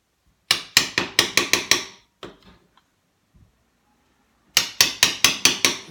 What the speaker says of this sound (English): which is a Japanese chisel hammer.